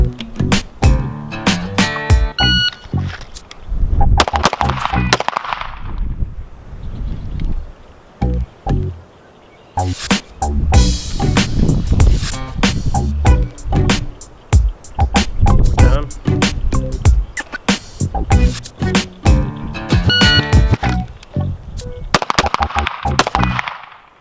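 Browning Hi-Power pistol shots fired in quick bursts during a Mozambique failure drill, sharp loud reports with short pauses between strings.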